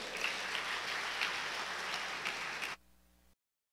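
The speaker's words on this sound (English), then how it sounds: "let us welcome with a hearty round of applause the Shiv Tandava Dance" An audience at a Divali Nagar night show gives a hearty round of applause welcoming a Shiv Tandava dance group: steady, dense clapping for under three seconds that cuts off abruptly into a faint hum.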